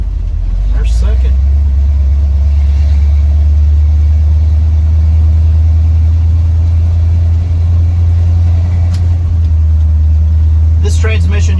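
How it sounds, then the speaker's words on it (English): A 1970 Ford F100 truck engine runs after being shifted into second gear without the clutch, on a loose transmission: a loud, steady low rumble continues throughout, with a few faint clicks. "I didn't use the clutch when I shifted to second."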